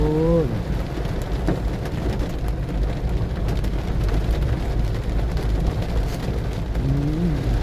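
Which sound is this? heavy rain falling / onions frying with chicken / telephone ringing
heavy rain falling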